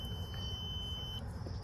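A multimeter's continuity test gives a steady high-pitched beep on a good automotive fuse from a BMW X5, a single sustained tone heard close against a low background hum.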